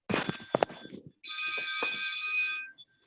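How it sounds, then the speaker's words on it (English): An old, rusty, ancient telephone bell rings in two long trilling bursts, clear and fairly close, with a short gap between them and a few faint background noises underneath. "the phone ring, very rusty one, right? Ancient one."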